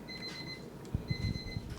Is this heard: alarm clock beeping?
yes